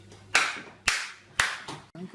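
Three slow, sharp claps close by, evenly spaced about half a second apart, each ringing briefly before the next.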